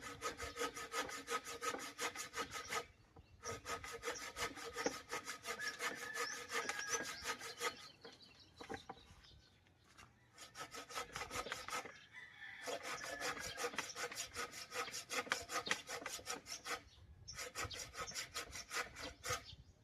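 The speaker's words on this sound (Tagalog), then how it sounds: "matatapos sa paglalagari" Hand saw cutting wood at a bamboo hut build site in a long series of rapid, rhythmic rasping strokes, loud and close. The sawing pauses briefly a few times, and a rooster crows faintly in the background.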